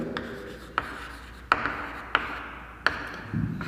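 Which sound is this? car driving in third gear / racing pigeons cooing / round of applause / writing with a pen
writing with a pen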